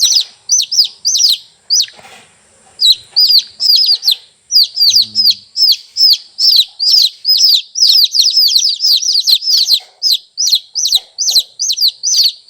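Chicks peep in quick, high, bright bursts, a steady close chorus of overlapping chirps that runs almost without pause.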